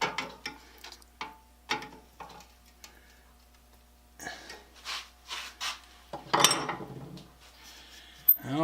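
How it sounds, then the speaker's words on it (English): A metric fits-all wrench snugging up screw heads on a toy saw held in a saw vise, a series of short metallic clicks and ratcheting taps, close and intermittent, with soft rustling and handling noise between them. "snug them up nice and tight with my metric fits-all wrench"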